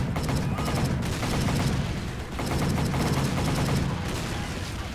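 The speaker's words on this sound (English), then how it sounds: "you have to get back on the machine gun again and take out another wave of enemies coming up on the beach" Sustained, dense machine gun fire in a video game, with enemies advancing up a beach, rattling continuously and loudly for the whole stretch with a brief dip midway.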